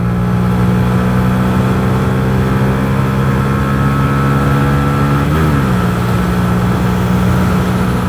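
A Yamaha YZF R125 motorcycle engine drones at a steady, loud pitch, then its revs shift abruptly midway and it keeps pulling hard, with no one talking.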